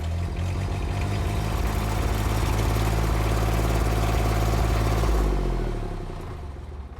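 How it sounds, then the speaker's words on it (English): A Cimline M Series sealant melter's engine cranks and catches, then runs at a steady, loud idle with a dense clattering rumble before the level drops and settles near the end. "the engine can now be started by turning the key to position 2 momentarily"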